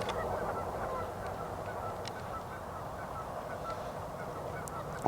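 Geese gathered at a beaver lodge with a few mallards among them, honking in a busy, continuous chorus at moderate distance, fairly faint outdoors.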